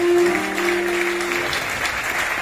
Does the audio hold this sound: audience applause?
yes